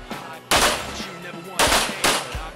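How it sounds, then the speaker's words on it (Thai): Gunshots ring out during a night combat shooting drill at human-shaped targets, a few loud, sharp reports with short echoing tails, spaced unevenly within a couple of seconds. "ยิงไปให้ครบ5นัด ก็5นัดติดต่อ"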